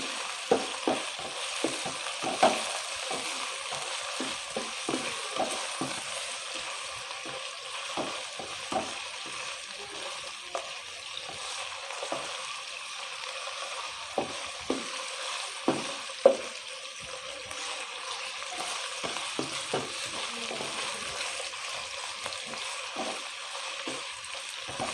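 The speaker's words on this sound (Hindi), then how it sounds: "गोश्त को फ्राई कर लेते हैं पिंक और वाइट होने तक" Pieces of chicken frying in a pan for chicken korma, a steady close sizzle with frequent short stirring scrapes and clicks throughout, no talking.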